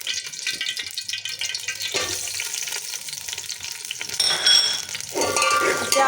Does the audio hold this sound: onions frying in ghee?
yes